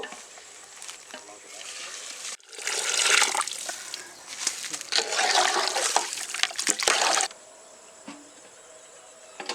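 Water pours in a rushing splash into a village cooking pot for goat leg soup, a few seconds of loud gushing framed by quieter outdoor ambience with insects chirping before and after.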